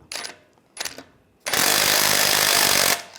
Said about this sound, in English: Now we're going to loosen up this sleeve here. Use a 24mm wrench, 24mm socket.